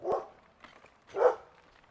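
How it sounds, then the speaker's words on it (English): Two short barking bursts from dogs at a place with many dogs around, moderately loud and a little distant, separated by a quiet gap and a faint yip in between. "loads of dogs here"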